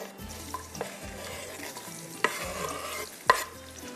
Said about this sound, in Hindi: ये प्याज हमारा अच्छे से ब्राउन हो रहा है